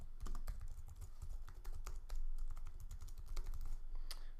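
Rapid clicking keystrokes rattle across a computer keyboard in an uneven stream, close and clear, with a return key press among them.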